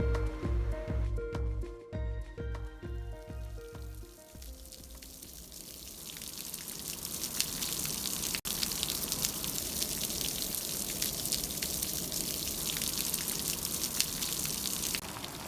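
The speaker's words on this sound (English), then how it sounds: "The rain will continue overnight and make for a very cold and wet morning." Steady rain falls at a mountain campsite on the Tour du Mont Blanc, a dense, even hiss that builds and holds after a few seconds of soft music.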